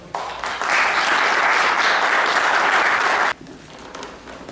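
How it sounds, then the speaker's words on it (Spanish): Applause welcomes a speaker at an academic philosophy gathering, a dense and steady burst of clapping that swells quickly, holds for about three seconds, then cuts off to quiet room tone. "el doctor Julián Yaiki, a quien recibimos con fuertes aplausos."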